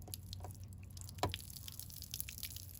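Water dripping and trickling from the bottom drain of a Ford F150 door with its rubber grommet removed, a few faint drips with one sharper splash midway, close and quiet against a low steady hum.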